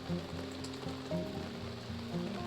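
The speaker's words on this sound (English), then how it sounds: "we're just sitting here, out here, and under the awning because it's raining" Rain falls on a camper awning at a campground near a gorge, a soft continuous patter heard up close with a faint low rumble beneath.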